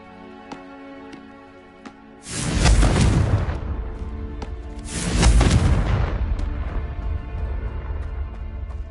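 Two heavy fiery blasts from the Confringo spell in Hogwarts Legacy, each a loud booming burst with a crackling, rumbling tail that fades over a couple of seconds, set against faint ticking game ambience.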